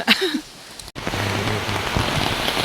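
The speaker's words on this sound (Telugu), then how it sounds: "వర్షం అసలు మామూలుగా లేదండి" Heavy rain pours down steadily, a dense hiss of drops drumming on a surface, close and loud with no voices.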